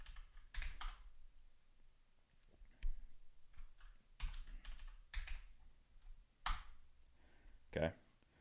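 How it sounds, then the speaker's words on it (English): A password is typed on a computer keyboard in Ubuntu 18.04 during a CUDA 10.0 install, with scattered close key clicks in short bursts and pauses, and a person speaking at times. "Enter in that password."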